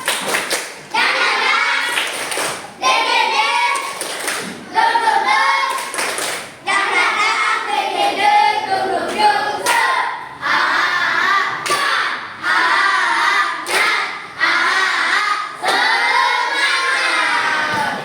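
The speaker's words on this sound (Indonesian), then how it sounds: "Tepuk semangat." A classroom of children performs a rhythmic spirit clap, bursts of patterned clapping and thumping repeating in sections with children chanting and voices between the claps, close and loud.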